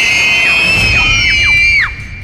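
A child screams loudly and piercingly in a long, sustained high-pitched cry with several falling pitch glides, cutting off abruptly near the end.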